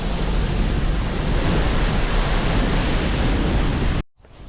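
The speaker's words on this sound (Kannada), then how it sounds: "ನೀರಿನ ಸ್ಪೀಡು ರಭಸ ಹೆಚ್ಚು ಕಮ್ಮಿ ಏನು ರಭಸ ಅಂತ ನೋಡ್ತಾ ಇರ್ಬೋದು" Water rushes forcefully through the gates of the Vani Vilas Sagar dam in Karnataka, a loud, dense, unbroken roar that stops abruptly near the end.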